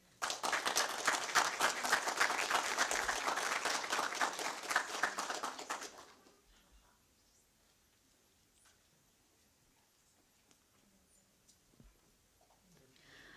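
An audience applauds graduates at a cohort graduation ceremony, a full burst of clapping for about six seconds that then falls away to near silence with a few faint stray sounds.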